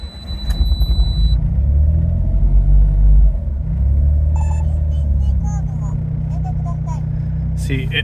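Autozam AZ-1 kei car engine fitted with a Keisport ECU idling steadily, a low, even rumble close by with a brief dip partway through and faint clicks over it.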